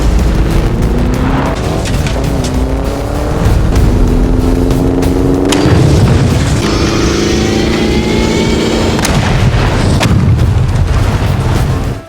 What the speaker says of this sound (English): Daryl blasts the last 2 bombs and takes off down the side road in style